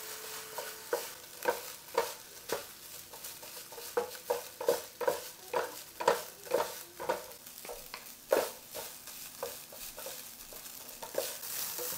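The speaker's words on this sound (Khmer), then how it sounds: "ហើយយើងច្របល់បាយកាពិយើងឲ្យសក់ចូលគ្នាមក" Shrimp paste (kapi) fried rice tossed and mixed in a pan, rhythmic repeated scrapes and clinks of a spatula against metal over a low sizzle, close up, with no voices.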